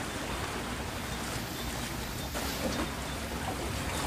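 Fishing boats, including Khánh Hòa and Bình Định net boats, heading into Bình Tỵ harbor in Vietnam; a steady, fairly loud engine rumble and water wash fill the whole stretch, with no talking.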